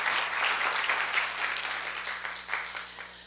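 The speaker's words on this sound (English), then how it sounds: "Round of applause, please." Audience at a professional speakers' association event breaking into applause, a dense burst of clapping that holds fairly loud, then thins and fades toward the end.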